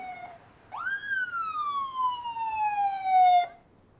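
A single siren wail rises sharply, then slowly falls in pitch over about three seconds, loud and clear before cutting off, with quiet background rumble.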